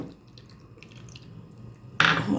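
Water pours into a bowl of cornflour batter mixed with Kashmiri chilli and black pepper, a sudden close splashing gush after a quiet lead-in with faint kitchen clinks.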